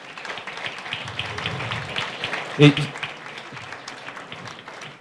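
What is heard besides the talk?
audience applause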